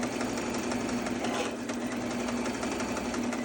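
A sewing machine runs in a steady, close hum with fast needle ticking while back stitching a baby boy's burial outfit, with no voices.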